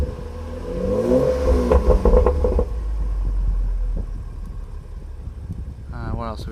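A BMW M135i engine revs in a quick throttle blip, a loud rising then falling rev heard up close, followed by a lower rumbling idle, with someone talking over the end.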